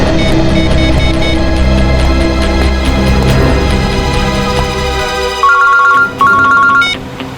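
A phone rings loudly with a repeating electronic ringtone over a humming musical backdrop in a Hindi crime drama, the tone pulsing in short bursts near the end.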